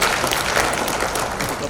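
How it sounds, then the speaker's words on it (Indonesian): Applause from an audience at a Syarikat Islam speech in West Sumatra, a dense, steady wash of many hands clapping throughout the short stretch, with no talk over it. "Tepuk tangan dulu"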